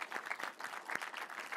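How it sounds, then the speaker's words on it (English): Brief, fairly faint round of audience applause for conference speakers and moderators, a steady patter of many hands clapping throughout. "Let's just give them one more round of applause."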